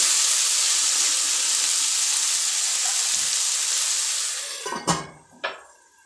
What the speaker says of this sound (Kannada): ಒಂದು ಮೂರು ನಿಮಿಷ ಮೀಡಿಯಮ್ ಫ್ಲೇಮಲ್ಲಿ ಇದನ್ನು ನಾನು ಫ್ರೈ ಮಾಡ್ಕೊಳ್ತೀನಿ